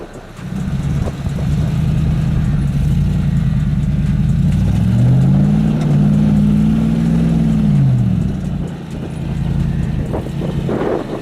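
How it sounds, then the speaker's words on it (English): A Hummer H2 engine drones loud and close while climbing an off-road obstacle, its pitch rising as the gas is held through a long rev before easing off. "The H2 rolls back a little and tries to conquer the obstacle, holding the gas pedal a little longer."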